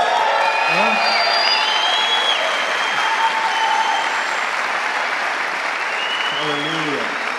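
A church congregation claps for the choir in sustained, dense applause that holds steady throughout, with scattered whistles and a voice or two rising above the clapping.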